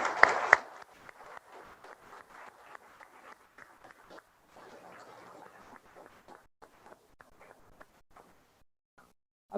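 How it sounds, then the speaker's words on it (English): An audience at a health startup pitch day applauds veterans, beginning with a burst of clapping that thins into scattered, fading claps with a few louder individual ones. "let us applaud you and our three as well"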